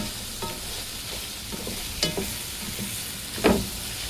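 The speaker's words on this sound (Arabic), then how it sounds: "وهكمل تشويح في البصل" Caramelized onions sauté in ghee in a pan, a soft, continuous sizzle punctuated by occasional scraping clinks of a stirring utensil, close and without talk.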